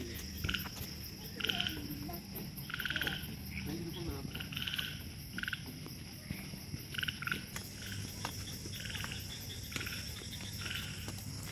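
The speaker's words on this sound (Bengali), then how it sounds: "এখানে ব্যাঙ ডাকছে" Frogs croak at night around a resort in Gazipur in repeated rhythmic bursts of calls over a constant insect drone, moderately close and fairly quiet.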